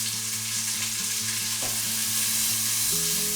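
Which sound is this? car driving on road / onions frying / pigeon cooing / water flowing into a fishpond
onions frying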